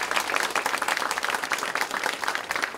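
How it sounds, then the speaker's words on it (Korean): Audience applause fills a Democratic Party national disability committee workshop hall, a dense, steady wash of many hands clapping with no talk, sustained and fairly loud throughout. "다시 한번 큰 박수 부탁드립니다."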